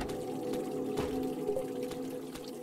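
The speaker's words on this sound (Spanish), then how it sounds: "Agua." Water pouring in the House 1.5 video game, a steady liquid trickle under a low ambient hum, continuous and moderately faint with a few soft clicks.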